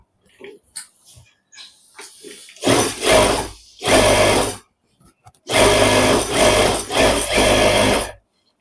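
A sewing machine stitches the corner of a fish-cut kurta, running in several close bursts of loud mechanical whirring with short pauses between, alone without talk.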